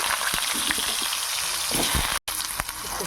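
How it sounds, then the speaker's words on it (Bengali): Potato pieces fry in hot oil in a pan, giving a steady, dense sizzle that stays loud and close throughout, broken only by one very brief dropout near the end. "ওই তেলে আলু কটা ভাজা করে নেবো"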